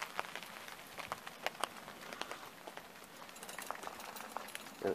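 Light rain patters steadily outdoors onto a small tarp on a wet day at a covert spot, producing a soft, continuous scattering of drops with no talking.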